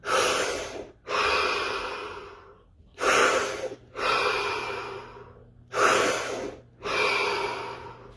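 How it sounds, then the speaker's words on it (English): Three deep breaths, each a sharp audible inhale followed by a long, slow exhale, evenly spaced and close up, with no talking. "3 deep breaths."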